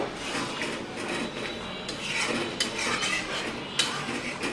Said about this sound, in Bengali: এখন আমি ঢাকনাটা খুলে আবার একটু নেড়ে চেড়ে দেবো।